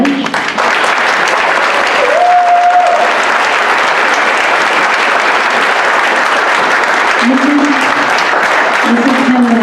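Sustained applause from a ceremony audience honoring Filipino World War II veterans at a Gold Medal presentation, steady and dense throughout, with brief voices breaking through now and then.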